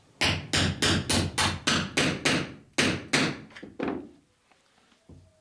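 A hammer taps a nail against a dolly while riveting the wooden frames of a small boat, a quick run of about a dozen sharp, evenly spaced knocks that slow and fade toward the end.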